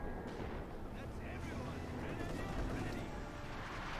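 Artillery fire booms in Company of Heroes 2 as a continuous rumble of distant, overlapping blasts beneath steady battle noise, with a commentator talking over it.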